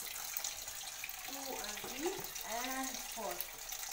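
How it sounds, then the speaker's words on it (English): Raw potatoes being set into a bowl of water to soak before cleaning, giving a few brief splashes and sloshes over steady tap-like running water in a home kitchen, fairly close. "you need to put them in some water just for like 5 minutes or something"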